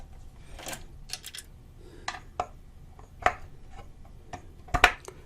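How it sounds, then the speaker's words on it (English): Screws come out of an old Kriesler 11-20 Midget radio chassis, heard as scattered sharp metallic clicks and taps at close range, irregularly spaced, with a quiet background and no voices. "there's some screws here, so I'll undo them"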